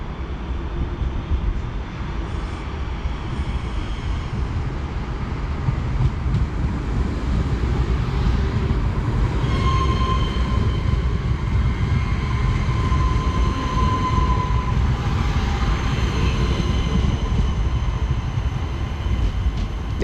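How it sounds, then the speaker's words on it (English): A Class 323 electric multiple unit in Northern livery pulls away from Manchester Airport station on a Liverpool Lime Street to Crewe service. A steady, loud rolling rumble carries a rising motor whine throughout, with no talking. "the other train in Manchester Airport is now heading off"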